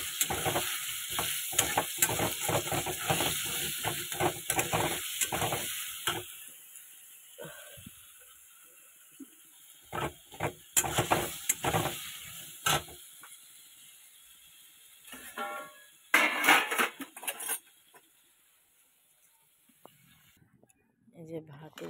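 Potatoes sautéed in a pan with cumin, ginger, dried chilli and tomato paste, with close, busy scraping and stirring strokes over a sizzle that thin out into sparser clatters and quiet gaps near the end.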